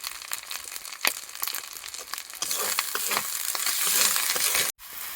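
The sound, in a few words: spices frying in pan with garlic paste and cumin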